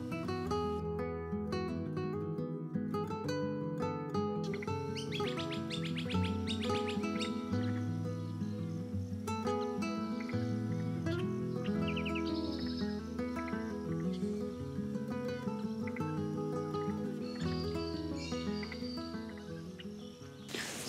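A reed warbler sings a long, busy stream of chattering, repetitive phrases, close and clear, with faint insect trilling in the background, in Australia.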